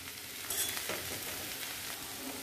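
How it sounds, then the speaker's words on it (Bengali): Softened papaya and potato pieces fry in a pan, a continuous close sizzle with a few stirring scrapes and no voices. "এবার এটাকে আরও 2 মিনিটের মতো একটু ভাজা ভাজা করে নেব"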